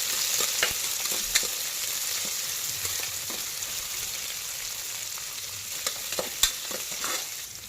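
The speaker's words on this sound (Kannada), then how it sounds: "ಬ್ರೌನ್ ಕಲರ್ ಬರೋ ತನಕ ಸ್ವಲ್ಪ ರೋಸ್ಟ್ ಮಾಡ್ತೀವಿ" Onions and curry leaves roasting in a pan until brown, giving a steady close sizzle with occasional sharp stirring scrapes and clicks, with no voices.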